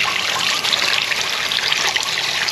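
Water runs steadily from a tap over chicken pieces soaking in a basin to thaw, a close, continuous splashing trickle with no talk.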